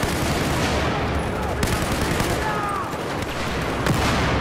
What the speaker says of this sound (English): I'm just blind firing